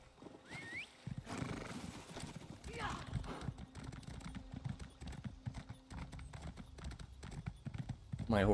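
Horse hooves clip-clop in the video game The Elder Scrolls Online, a slow horse plodding in a steady rhythm alongside a whinny, while a person talks over the hoofbeats.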